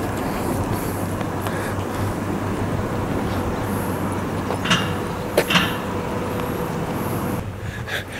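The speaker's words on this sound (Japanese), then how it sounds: "今行った電車がですね14時13分発の渋川行きで" A JR Agatsuma Line train departs Kanashima Station in Shibukawa, Gunma, giving a steady loud rolling rumble with a low engine drone and a few clacks and squeaks before it fades near the end.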